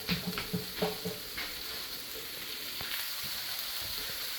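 Chicken for yakisoba sizzles in a frying pan, a faint, steady hiss after cold meat has cooled the pan, with a few soft knocks and stirring sounds early on.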